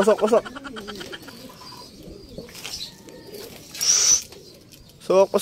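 Racing pigeons coo and flutter in a loft after a fun race, with soft bird sounds and a burst of wing flapping between stretches of someone talking.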